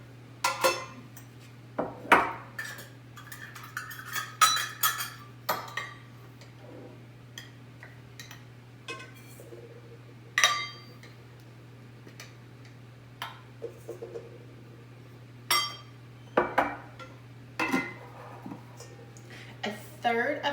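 Dry ingredients for a vegan gluten-free chocolate cake, including almond flour and tapioca flour, being mixed in a bowl: scattered clinks and scrapes of a utensil against the dish, irregular and close, over a low steady hum.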